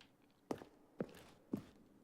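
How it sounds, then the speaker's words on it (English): Four evenly spaced footsteps, about half a second apart, fall on an office corridor floor in The Stanley Parable video game, soft and close against a quiet background. "You can like hear your own footsteps"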